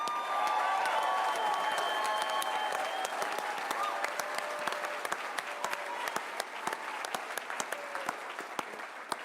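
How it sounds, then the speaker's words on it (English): A large convention crowd in a resort ballroom applauds in a broad, sustained round with scattered cheers, and the clapping thins into individual sharp claps near the end. "give him a round of applause"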